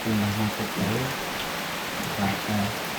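Rain falls steadily in the village of Cukuh Balak, a dense, even hiss that fills the scene, with faint murmuring voices underneath.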